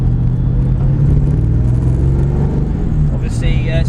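A tuned 4.6-litre Rover V8 in a Ford Capri rumbles steadily on a road drive, heard from close by as a deep, continuous engine drone with faint rising whine near the end.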